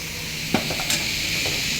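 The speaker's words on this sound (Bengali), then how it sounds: "বেতো শাক কড়াইয়ে তেল কালো জিরা দিলাম, দিয়ে এবার নাড়াচ্ছি" Bathua greens fry in oil with nigella seeds in a wok, a steady loud sizzle with a couple of brief scraping stirs from the spoon, close up and with no voices.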